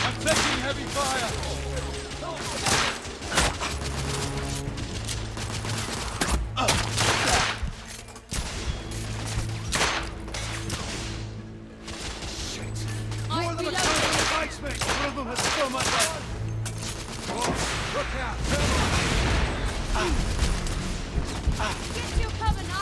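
Heavy, sustained gunfire and explosions in The Order: 1886 on PS5, with dense overlapping bursts throughout and shouted voices breaking in over the battle.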